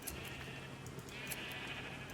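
Sheep bleating in a crowded pen in Minecraft, a steady close synthetic bleat chorus lasting throughout at moderate level with no talk.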